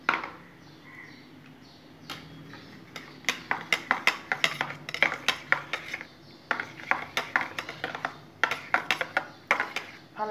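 A spoon clinks rhythmically against a vessel while stirring Amul powdered milk into milk, a quick series of sharp metallic taps that pause briefly and then resume.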